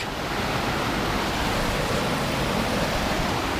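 A mountain creek in the Great Smoky Mountains in February rushes steadily, a close, dense broadband water noise with no pauses.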